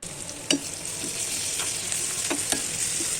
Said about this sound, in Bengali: এখন আমি চুলায় পেঁয়াজ কুচি দিলাম আদা রসুন বাটা দিলাম